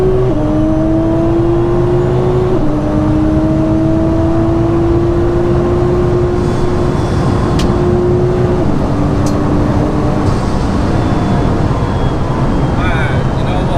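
An 1100bhp Nissan GTR pulls hard at full throttle, its engine note climbing steadily through long gear-held sweeps with brief shift dips, loud and continuous from inside the car, with a voice talking over it.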